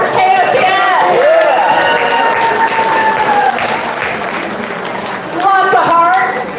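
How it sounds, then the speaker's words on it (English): A crowd applauds for KOCF at the OCF Spring Fling, a steady wash of clapping and cheers lasting several seconds while a voice talks over it, swelling again near the end. "Can everybody applaud for KOCF?"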